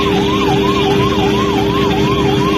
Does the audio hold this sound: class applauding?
no